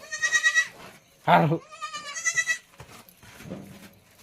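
Newborn goat kids bleat in a cattle shed, several short, wavering cries coming close together and fairly near, with a brief low call between them and a faint murmur near the end.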